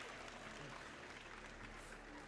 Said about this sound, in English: A big round of applause for our winner, Giannis Stofaridis, Hercules himself.